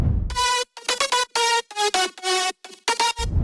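Future house synth lead run through wave shaping, OTT compression, distortion and reverb plays a choppy, bright melodic phrase of short stabbed notes with rich harmonics, loud and upfront with no voices.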